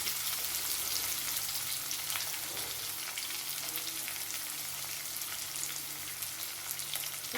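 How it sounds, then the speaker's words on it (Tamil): Chopped onions sautéing in a pan for a beetroot and chana dal stir-fry: a steady, dense sizzle with faint stirring scrapes, continuous and close, no talking. "வெங்காயம் வதங்கட்டும்."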